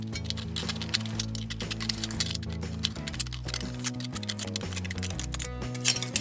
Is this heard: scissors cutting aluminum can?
yes